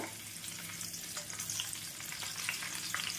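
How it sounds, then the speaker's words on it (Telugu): Onion and a couple of green chillies fry in hot oil for a prawn curry, giving a steady, close, broadband sizzle that holds evenly throughout with no voices. "మన నూనె వేడైంది దీంట్లోకి ఒక ఉల్లిపాయ ఒక రెండు పచ్చిమిర్చి కట్ చేసుకొని వేసుకోండి వీటిని కొంచెం వేపుకుందాం లైట్గా వేగేలాగా"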